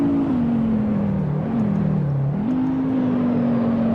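Car engine in the racing game Assetto Corsa holds a steady, loud droning tone under throttle, dipping briefly as the driver lifts off slightly and then climbing back, with no talking.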